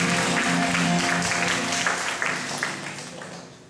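A congregation at a joint prayer meeting breaks into applause, a dense, roomy wash of many hands clapping that slowly fades over a few seconds.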